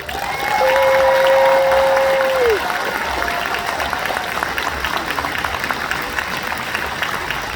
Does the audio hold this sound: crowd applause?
yes